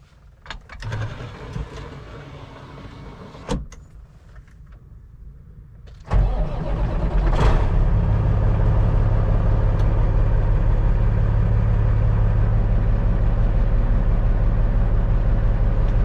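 A rebuilt 650hp Cat diesel engine cranks briefly, catches and fires up, then settles into a loud, steady, deep idle that continues without pause and with no talking over it.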